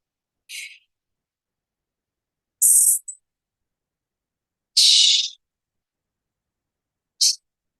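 Four forceful hissing exhales through the mouth, separate bursts with pauses between, the middle two longer and louder, no talking.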